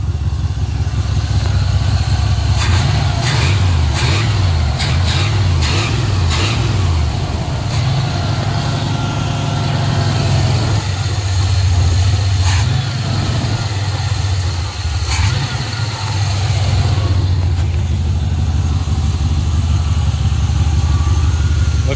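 A 1980 Pontiac Trans Am Turbo idling after sitting for 18 years, a loud, steady low rumble close by with a slightly uneven lope and no talk over it.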